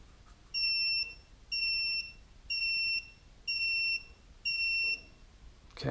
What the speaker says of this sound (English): it says it'll beep 5 times when it's paired